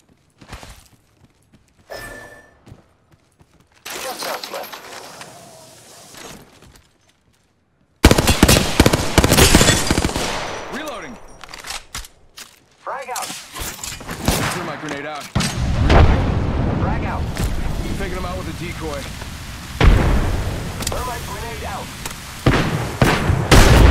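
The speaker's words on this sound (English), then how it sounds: "Getting shot at. Firing. Take fire." Automatic weapon bursts and heavy gunfire in an Apex Legends firefight, a quieter opening giving way to loud, dense shooting with thuds and booms from about eight seconds on, with talk mixed in.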